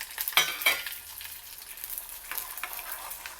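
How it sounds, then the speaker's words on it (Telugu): Peanuts and lentils crackle and sizzle in hot tempering oil for lemon rice with kalinkaya, with a couple of sharper pops early on and a soft steady fry underneath. "ఇప్పుడు ఈ పప్పులు కూడా కొంచెం వేగాయి, చిట్టుపట్లాడుతున్నాయి"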